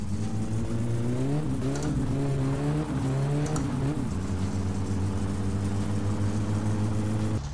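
Audi 80 engine in My Summer Car, revving up through several rising strokes before settling into a steady, loud buzzing drone close by.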